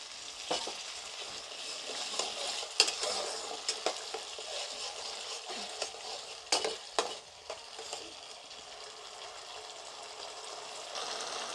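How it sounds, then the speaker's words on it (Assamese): Masala with ginger frying in a pan for tel koi fish curry, a soft steady sizzle broken by intermittent scrapes and knocks of a spatula stirring, close and fairly quiet, without speech. "মছলাখিনি ভাজি থাকোতে অলপ এড কৰিছো পানী।"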